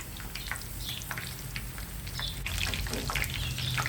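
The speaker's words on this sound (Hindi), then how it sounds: "बिल्कुल समझ लीजिए हाफ फ्राई यहाँ पे आपने इसको करना है" Tinda (apple gourd) half-frying in oil in a karahi, a steady close crackle and fine sputtering that swells slightly louder partway through, with no voices.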